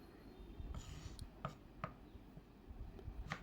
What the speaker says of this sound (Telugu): సో క్లాసిక్ చికెన్ బర్గర్ కోసం లెట్యూస్ ఇంకా ఆనియన్ ఇక్కడ కట్ చేసుకుంటున్నాం